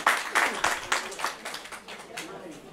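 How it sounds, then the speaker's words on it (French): An audience at a launch event for a women leaders' movement in Mali claps, with scattered bursts of applause that fade over a few seconds while voices talk underneath. "Applaudissez pour elle, s'il vous plaît."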